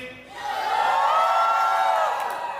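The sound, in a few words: bride's side guests cheering at wedding reception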